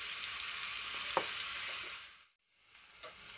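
Chopped onion frying in a pan for Tangra fish curry, a steady close bright sizzle that dips briefly near the end before resuming.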